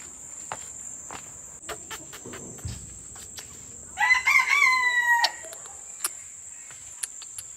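A rooster crows once at a bird farm in Kalimpong, loud and close, over a steady shrill drone of insects, with a few scattered footsteps and knocks around it.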